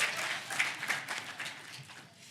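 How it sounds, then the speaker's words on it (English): Scattered audience clapping at a student address, moderately close and thinning out over a couple of seconds, with no talk over it. "You were clapping. You clap."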